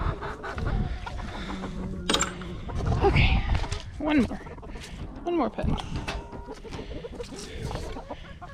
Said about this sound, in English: My favorite little rooster's in here.